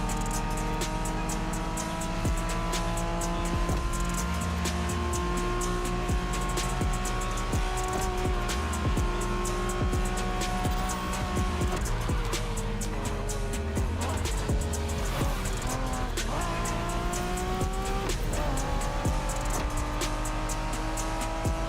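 A Honda NSX sports car engine roars steadily in the video game The Crew Motorfest, revving up and down through gear changes with an occasional tire squeal, loud and continuous throughout.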